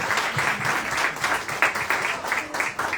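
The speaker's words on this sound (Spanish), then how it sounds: "Fuerte aplauso para la editorial," Audience applauding at a book presentation in a bookstore: dense, loud, continuous clapping from a packed room, with brief swells and no pauses.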